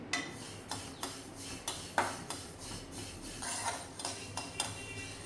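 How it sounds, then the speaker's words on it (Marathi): Repeated scraping and clinking of a spatula stirring sesame seeds roasting in a metal wok, a steady series of short strokes close by, no talk. "कढई ठेवली आणि लगेच त्यामध्ये तीळ घातलेले आहे जशी जशी ती कढई ताप गरम होईल तसं तसं ते तीळ पण छान गरम होतील"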